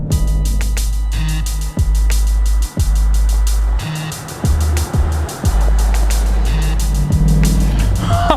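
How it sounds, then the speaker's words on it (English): A 2019 Dodge Durango SRT engine roars loudly at full throttle, with deep booming bursts broken by brief dips as gears shift, close and continuous over wind rush. "This thing just flies when you launch it."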